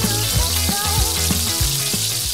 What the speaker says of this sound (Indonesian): kita akan goreng sampai garing ikan bandeng ini di wajan